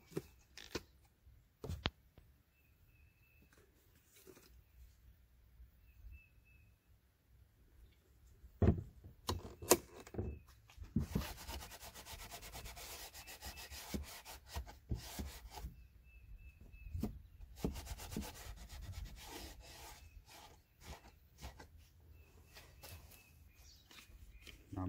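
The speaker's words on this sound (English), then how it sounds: "Gonna clean up both sides with some rubbing alcohol." A cloth rubs around a freshly cut scupper hole on a Bass Raider 10E boat with rubbing alcohol, making faint scrubbing and wiping noises in irregular bursts, with occasional knocks, all at low level.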